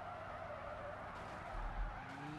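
Car tires squealing as a vehicle drifts and spins out in the Car Simulator 2 driving game, a sustained skidding screech over a low engine drone, with no talk.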